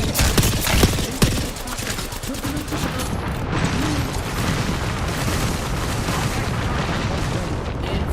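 A grenade blows up in a competitive shooter tournament match: loud booming bursts crash in at the start, followed by dense, sustained crackling battle noise.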